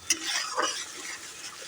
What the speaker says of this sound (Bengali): এই মশলাগুলোকে এবার যাতে মশলা থেকে তেলগুলো ছেড়ে যায়, মশলা থেকে নাড়তে হবে।